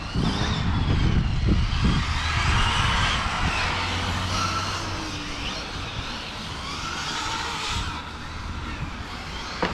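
A Hobao Extreme VTe2 1/7 scale RC car with a Castle Creations 1520 1650KV motor on 6S power accelerates on tarmac, its electric motor whine rising and sweeping in pitch, loud and close, with tire noise beneath.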